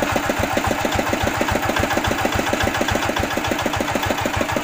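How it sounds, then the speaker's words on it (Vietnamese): A repaired D8 diesel engine runs steadily, a loud, close, rapid rhythmic thumping with a regular firing beat and no voices. "Đấy, máy nổ rất ngon các bạn."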